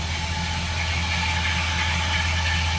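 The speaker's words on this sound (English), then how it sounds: "And there it is, Ford power. Again, flathead V8." A 1940 Ford Deluxe five-window coupe street rod with a flathead V8, Holley four-barrel carburetor, Edelbrock intake and headers idles with a loud, steady, low rumble, close and unbroken.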